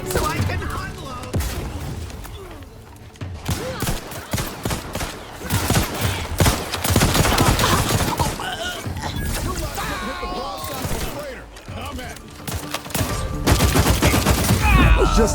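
Gunfire in The Outer Worlds 2 during a climb, loud dense volleys of rapid shots and heavy impacts crowding together in bursts, with voices faintly mixed in among the shooting.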